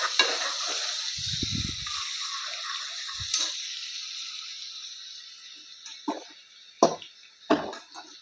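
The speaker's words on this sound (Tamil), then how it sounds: "வெங்காயத்தை போட்டு நல்லா வதக்கணுங்க." Onions sauté in a pan for biryani, a soft sizzling hiss that fades over time, with a few low knocks and a couple of sharp utensil clacks toward the end.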